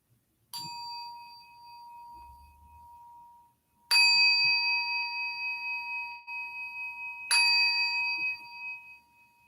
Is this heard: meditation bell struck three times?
yes